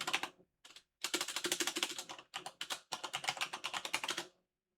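A computer keyboard clatters as a new password is typed in, with dense rapid keystrokes in bursts and short pauses between them, close and clear, with no voices.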